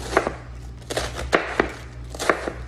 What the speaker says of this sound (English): Then, I just slice it. Let's do some nice little slices on it.